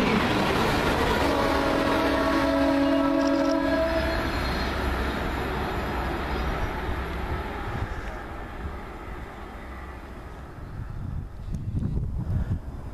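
A TransPennine Express class 185 diesel unit heading to Preston passes near Kearsley, sounding a two-tone horn, then a loud rushing roar of wheels and engine that gradually fades as it moves away.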